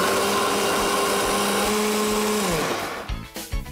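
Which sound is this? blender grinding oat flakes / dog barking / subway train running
blender grinding oat flakes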